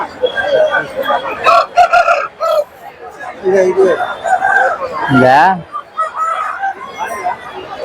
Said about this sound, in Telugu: ఎలాగానే కోళ్ళు ఇవి